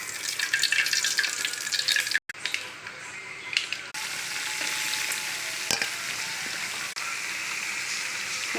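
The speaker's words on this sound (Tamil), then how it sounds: "இந்த பக்கம் சுண்டல் தாளிச்சு" Chickpea sundal tempering in hot oil gives a broad, steady sizzle and crackle close by, briefly interrupted by a sharp clatter, then a continuous frying hiss.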